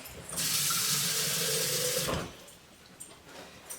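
Water runs hard from a kitchen tap to rinse out a cooking pot in a homestead kitchen, a loud steady gush lasting about two seconds before it stops, followed by quiet handling sounds.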